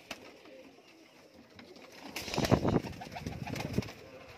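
Teddy pigeons coo close by, soft throaty rolling calls that grow louder midway and repeat in short bursts over a quiet background.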